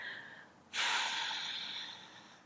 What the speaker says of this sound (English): exhale the breath out of your belly completely